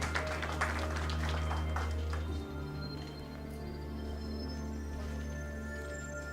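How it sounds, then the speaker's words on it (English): A conference audience claps to welcome a speaker to the stage at a cyber security event, scattered applause that fades into a steady hum of room noise and hall amplification. "Can we hear a huge round of applause for Mr."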